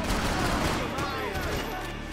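Dense, continuous gunfire from a firefight in the video game Max Payne 3, a loud barrage of overlapping shots with a voice talking over it.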